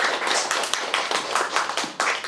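A small audience claps for the event staff at a memorial discussion meeting marking the 80th anniversary of Korean liberation, with close, fairly loud clapping and slightly uneven rhythm.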